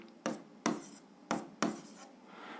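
A pen writes the answer to a 7th-grade algebra exercise on paper, four quick, close scratchy strokes in an uneven rhythm, soft and alone without talking.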